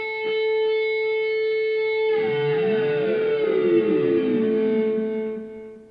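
A single picked electric guitar note rings out, its delay repeats echoing a couple of times before a whammy pedal sweeps the pitch into a warbling, siren-like bend that slowly fades, as in a song intro.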